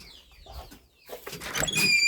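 Chickens cluck and stir close by, with a brief flutter of wings, the sounds growing busier toward the end. No one speaks.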